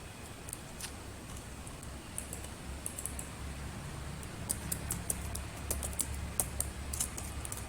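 Keystrokes on a computer keyboard as a command is typed into Windows to uninstall Skype through the Chocolatey package manager, quick light clicks in short bursts over a low steady hum, with a denser flurry of taps near the end.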